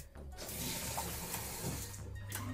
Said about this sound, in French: Allez, je vais me rincer la gueule.